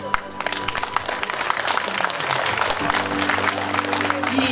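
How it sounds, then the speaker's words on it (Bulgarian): Audience applause at the Ilinden village folk festival in Dolno Ozirovo, a dense, steady crackle of many hands clapping throughout, with sustained musical tones and a low hum running underneath. "Приемете моите благодарности и аплодисменти за вас."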